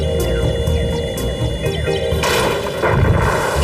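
Cartoon gunfire from a cockroach cartoon with repeated loud booming blasts over a dense, droning background, some sharp cracks followed by a rumbling burst.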